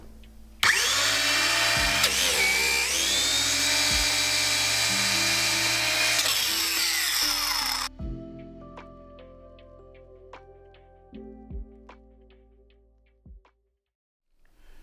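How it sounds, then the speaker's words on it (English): A biscuit joiner whines loudly as it cuts slots into a reclaimed wood board, one sustained high-pitched run that winds down, followed by quieter clicks and knocks of the tool being repositioned. "Then I just line up my marks that I made earlier with the window on the cutting tool."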